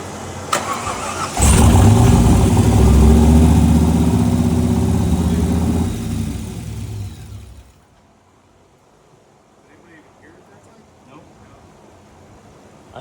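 A body-swapped Jeep engine turns over and fires, then roars loudly at high revs for several seconds before dropping away abruptly into near silence with faint background sounds.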